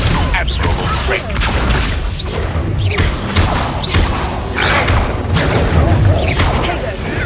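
An incendio fire spell bursts repeatedly in the Hogwarts Legacy game amid a busy combat mix of thuds, booms and crashes, with game voices speaking over the effects throughout.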